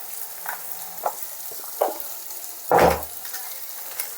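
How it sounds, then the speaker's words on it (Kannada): Kashmiri red chili powder, turmeric and garam masala fry in a pan for chicken gojju with soft sizzling, broken by several stirring scrapes and one louder clatter, without any talking. "ಇದರಲ್ಲಿ ಮಸಾಲೆ ಎಲ್ಲ ನೀಟಾಗಿ ಹೊಂದ್ಕೊಳ್ಳೋವರೆಗೂ ಫ್ರೈ ಮಾಡಬೇಕು"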